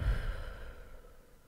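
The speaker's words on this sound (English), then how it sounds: "hold that breath in, and then consciously exhale" A single soft, deliberate exhale through pursed lips comes close up. It starts with a light puff and fades out gently over about a second.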